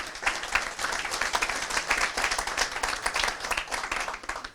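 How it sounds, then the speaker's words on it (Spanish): An audience at a formal commemorative ceremony applauds steadily, with many hands clapping in a dense, even patter throughout. "Un aplauso para ellos."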